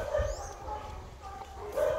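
An American Bully dog arriving at a kennel gives a couple of short, yippy barks and whimpers at close range, with someone speaking Portuguese over and around them.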